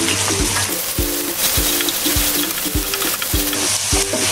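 Ginger paste, garlic paste and cumin are stirred in a pot for Puran Dhaka-style beef biryani: regular scraping strokes about twice a second over a continuous sizzle, with no talking.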